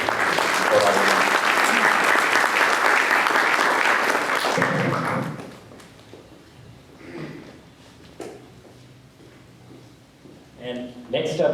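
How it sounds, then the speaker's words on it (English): Loud, dense crowd applause at a community unity day gathering rolls on for about five seconds, then cuts off into a quieter room where a few scattered sounds and a voice follow. "Big round of applause for"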